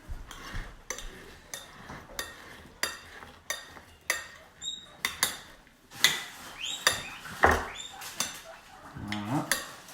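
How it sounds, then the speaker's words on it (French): A spoon repeatedly clinks and scrapes in a bowl as shallots, salt, pepper and Espelette chili are mixed for a tomato carpaccio, a series of irregular close, sharp clicks and stirs against a quiet background. "Donc, nous mélangeons."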